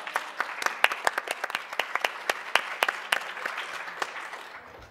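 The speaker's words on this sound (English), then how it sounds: "Can we have one more round of applause for everyone?" A conference audience gives a quiet, thin round of applause with individual hand claps distinct and irregular, heard from some distance for about five seconds.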